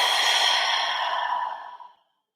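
A deep breath is released in one long, close exhale, a soft breathy hiss lasting about two seconds that fades steadily to silence.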